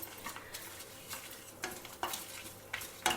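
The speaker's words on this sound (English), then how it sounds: "When the ginger is fried well, I am adding the red chilies." Ginger and red chilies, Guntur and Bedige, frying in oil in a pan while being stirred, with a steady soft sizzle broken by a few sharp scraping stirs of a spoon against the pan.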